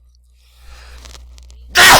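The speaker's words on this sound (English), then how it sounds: "I was sneezing at the time" A single loud, sharp sneeze bursts out close by at the end, after a few faint breaths and rustles, in a quiet physics lab classroom.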